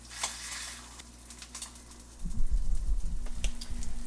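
Turkey bacon sizzles and crackles in a pan with scattered pops, then a stir or press brings a louder, thicker burst of frying for the second half.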